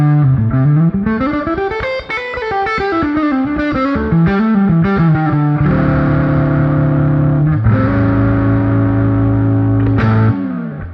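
A Maybach Marilyn electric guitar on the neck pickup plays a blues-flavoured run through a Rumble Drive overdrive, giving a loud, continuous, distorted tone with sustained chords near the end.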